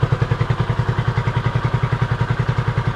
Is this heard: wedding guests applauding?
no